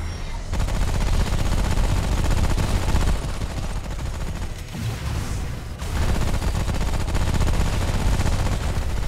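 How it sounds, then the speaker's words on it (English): Machine gun fire in the co-op shooter game Remnant: From the Ashes, dense rapid bursts rattling almost continuously and loud, with a brief pause midway before the firing resumes. "Then I guess I'll just use my machine gun."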